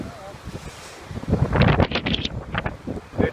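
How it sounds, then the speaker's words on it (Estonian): Strong north wind gusts buffet the microphone outdoors, with low rumbling bursts rising and falling over a few seconds, heavier toward the middle, and no speech. "tuul on kõva."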